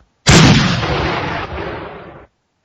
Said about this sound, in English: That was the spoiler cannon there.